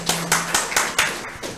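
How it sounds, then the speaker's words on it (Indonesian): A few rhythmic hand claps, roughly evenly spaced and fairly close, fading slightly toward the end. "Boleh tepuk tangan dulu lah"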